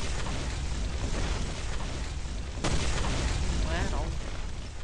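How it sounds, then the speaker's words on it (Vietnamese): An explosion goes off in the mobile shooter game Free Fire, heard as a loud broadband boom with a sharp burst near the midpoint, over continuous game noise and gunfire while players talk. "Má nổ."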